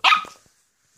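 A single short, high bark comes from a 10-week-old Wheaten terrier puppy, loud and close, then fades quickly into silence.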